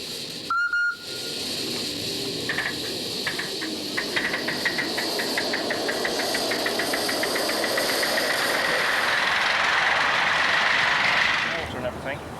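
A large-gauge model steam locomotive carrying passengers hisses steadily. It works up a rapid chuffing beat that grows louder and faster as it pulls hard, alongside metallic rattling, with an opening clank and faint voices at times.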